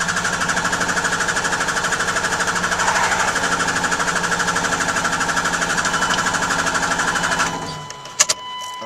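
A Cummins diesel engine that has just had its fuel system primed cranks with a loud, fast, even rhythmic chatter for about seven seconds, then falls quiet and leaves a few clanks and a faint hum.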